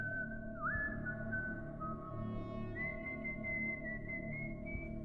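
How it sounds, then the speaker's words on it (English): Someone outdoors whistles a slow, broken, off-key tune at night, steady wavering notes sliding between pitches over a constant low background hum. "I was almost asleep when I heard whistling outside."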